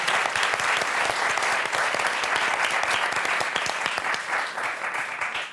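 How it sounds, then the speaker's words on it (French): Studio audience applause for the contestants on the French game show Motus: loud, sharp, closely miked clapping with distinct individual claps, sustained before tapering off slightly at the end, with no speech. "On vous applaudit très fort,"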